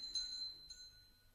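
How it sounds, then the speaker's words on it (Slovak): A doorbell rings indoors with two faint, clear bell tones in quick succession, the second shorter, fading into a quiet room. "Choďte pozrieť, kto to zvoní."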